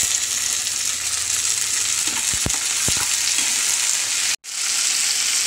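Chopped onion, green chilli, ginger-garlic paste and beans sizzle loudly in a wok for veg chowmein. The sizzle is continuous and close, broken by a few sharp stirring knocks and one brief dropout near the end.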